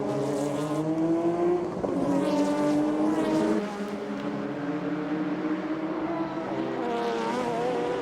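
Race cars at the 1997 Le Mans 24 Hours, including Jost Porsches and a Nissan, scream through the final chicane, their loud, rising and falling engine notes overlapping as several cars pass close by in quick succession.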